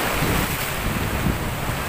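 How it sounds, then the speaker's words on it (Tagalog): Powerful ocean waves crash and wash against a rocky shoreline at Pagkilatan, Batangas City, a loud unbroken roar thickened by gusty wind buffeting the microphone, with no talking. "sobrang lakas po talaga ng mga alon"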